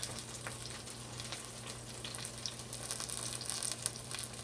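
Cod fish fritters frying in a pan, a steady soft sizzle with light crackles, close and fairly quiet, with no talking.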